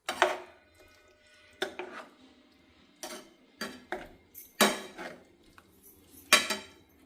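Paneer being stirred with salt and chilli in a pan for a palya, a metal spoon knocking and scraping against the pan in scattered clinks with short quiet gaps.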